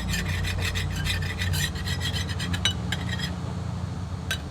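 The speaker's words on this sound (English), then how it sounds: "take your paint scraper, scrape off as much paint as you can from the paint chipper" Metal paint scraper rasping paint from a new CAT D7R bulldozer track link, a steady close scratching with repeated strokes running continuously under a low mechanical hum, no talking.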